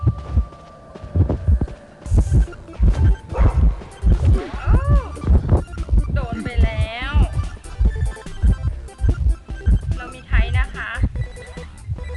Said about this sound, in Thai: หัวใจเต้นแรง